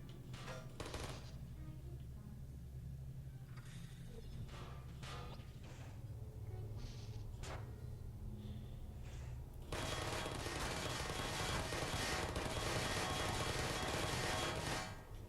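Turret gunfire in the Portal video game, heard as scattered sharp hits and clanks followed by a sustained burst of rapid fire in the latter part, moderately loud against a steady background hum.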